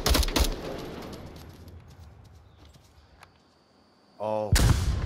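Gunfire in the VR shooter Onward during a competitive match: a loud burst of shots opens, fades into a quiet stretch, and another heavy volley erupts near the end.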